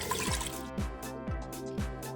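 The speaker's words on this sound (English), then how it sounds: "Secondly, you're going to put the 4 cups of water." Water pours into an Instant Pot holding dry black beans, with a series of about four rhythmic glugging splashes, close and moderately loud, and no talking.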